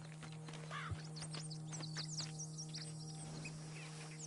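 Horse hooves clip-clopping in Red Dead Redemption 2, faint and irregular under an outdoor ambience of chirping birds and a steady low hum.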